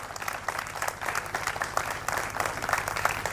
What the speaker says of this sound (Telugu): గట్టిగా అలాంటి తల్లులకి చప్పట్లు కొడదాం గట్టిగా